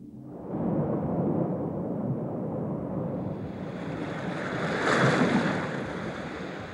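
Ocean waves surge against the front of a coral reef offshore. The roar of surf builds into one long, loud rush that swells to a peak and then eases back, with a windy hiss throughout.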